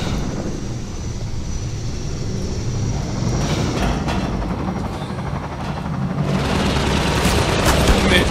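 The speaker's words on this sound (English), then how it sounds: "I'm getting shot in the back by a pesky gunship" Half-Life 2 gunship firing, a continuous rumbling barrage that swells louder and denser over the last few seconds, heard alone without talk.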